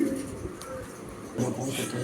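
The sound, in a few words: foreign pigeon cooing, Andalusian-colored hen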